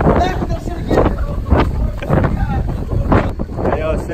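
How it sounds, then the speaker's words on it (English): Strong wind buffeting an outdoor microphone, a constant rumbling roar with gusty surges throughout, with people talking and shouting over it. "It's windy as fuck."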